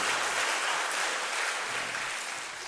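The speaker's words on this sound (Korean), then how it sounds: "우리 다시 한번 박수로" Applause from a gathered congregation honoring school leaders, a dense steady wash of clapping from many hands, moderately loud and sustained for the whole stretch, easing slightly at the end.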